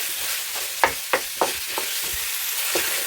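Chili paste sizzles steadily in a pan as it is stir-fried without any pre-frying, while a spatula makes a handful of sharp, close scrapes and knocks against the metal.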